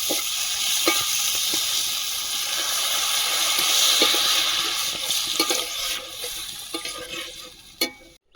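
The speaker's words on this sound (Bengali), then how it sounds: "মশলা থেকে তেল ছেড়েছে এবারে জল দিয়ে দেবো" Water poured onto a spice masala frying in oil with softened onion for a fish curry: a loud, rushing hiss and sizzle that slowly subsides, with a few scraping stir knocks near the end.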